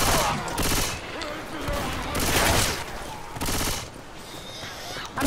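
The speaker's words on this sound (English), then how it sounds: "I hit Gerbil! So hard. Reloading" Rapid bursts of automatic gunfire in the zombie shooter Left 4 Dead 2 come in loud, dense volleys that pause and resume, with a player talking over the shooting.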